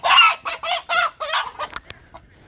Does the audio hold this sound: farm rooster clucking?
yes